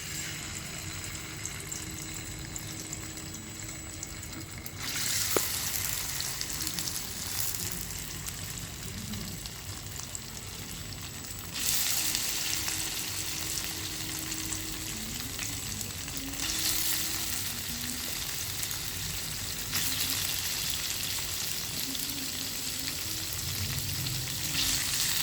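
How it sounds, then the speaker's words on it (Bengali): Paneer cubes frying in white oil mixed with ghee in a wok, a continuous close sizzle and crackle that swells in louder stretches, with occasional stirring clinks and no talking. "এবার এর মধ্যে আমি পনিরগুলোকে হালকা করে ফ্রাই করে নেব।"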